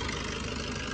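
A 2015 Maruti Suzuki Swift diesel (DDiS) engine idles steadily nearby, a loud, even diesel rumble with no voices.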